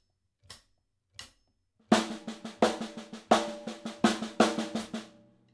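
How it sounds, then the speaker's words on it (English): A drum paradiddle phrase of three single paradiddles and one double paradiddle follows two sparse count-in clicks: an even, rapid run of close stick strokes on a drum with accented hits, fading out at the end, with no voices. "So when you combine the 3 single paradiddles and the double paradiddle together, it would sound like"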